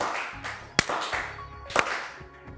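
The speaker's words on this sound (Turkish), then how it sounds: "Gerçekten üzgün alkış." Sparse, subdued applause on a Turkish word game show, a few scattered claps with two sharp louder claps standing out, close and brief.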